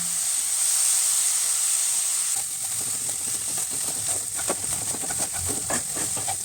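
A little water poured into frying masala for mushroom masala: a loud, continuous steamy hiss, then crackling sputters and stirring taps join in as the pan settles.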